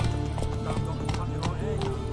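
Horse hooves gallop in The Witcher 3 video game, a rapid rhythmic clip-clop with a brief whinny, moderately loud under game music and a voice.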